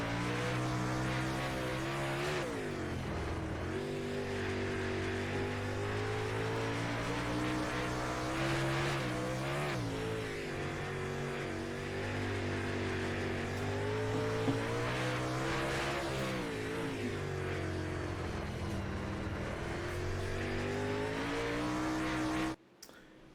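Onboard ride in the number 7 super late model race car at the speedway during an A Class feature, its engine roaring loud and steady with rising and falling revs through the laps, continuous throughout, then cutting off sharply at the end.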